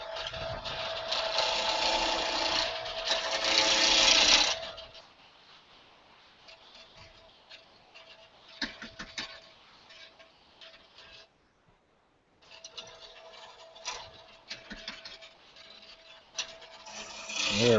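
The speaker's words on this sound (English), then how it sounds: "I'm going to use my roughing gouge." A roughing gouge cuts spinning wood on a lathe, making a loud, raspy scraping roar at first, then quieter intermittent rubbing and ticking with gaps, heard over a remote call connection.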